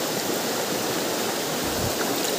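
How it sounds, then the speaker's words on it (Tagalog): Water rushing through a hole in a rock face, a steady, loud, broadband roar of flowing water that fills the whole moment without a break. "Ayun, lumusot ang tubig."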